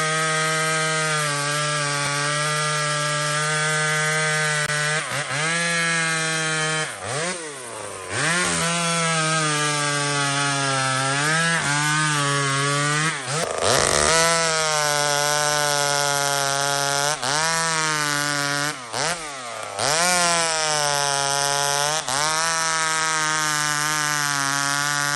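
An old small chainsaw runs continuously through wood, its engine droning loud and close with repeated dips and surges in pitch as the chain bites and the throttle eases, alone with no talk.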